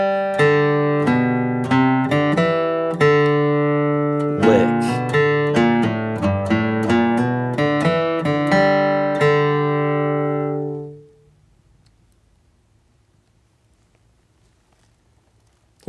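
Flatpicked guitar runs through Cripple Creek with a bluegrass lick, crisp picked notes in a quick even rhythm, close and clear, ending on a ringing chord around eleven seconds, followed by faint quiet room noise.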